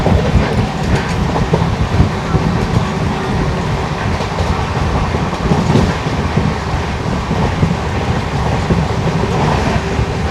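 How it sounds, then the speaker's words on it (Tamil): A superfast express from Chennai to Chengannur at roughly 130 km/h makes a loud, steady roar with faint clickety-clack of wheels on rails, heard from inside the carriage with no voices. "ட்ரெயின் ஆனால் செம ஸ்பீடு தாங்க போயிட்டுருக்கு இப்போது."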